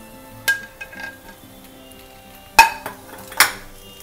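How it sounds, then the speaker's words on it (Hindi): Chopped tomatoes going into softened vegetables in a pan while making street-style poha, stirred with a utensil; a few sharp metallic clinks and scrapes over a faint background, with no talking. "अब मैं इसमें कटे हुए टमाटर डाल देती हूँ।"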